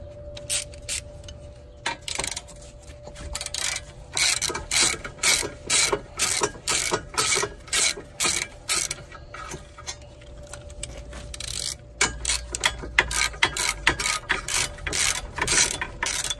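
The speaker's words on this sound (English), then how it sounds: "I'm gonna first break loose these two bolts with the breaker bar and finish it with the ratchet" A ratchet finishes loosening 17mm brake bolts on a 2003 Mitsubishi Lancer ES, its pawl clicking in steady rapid bursts with short pauses between strokes, close and alone with no talk.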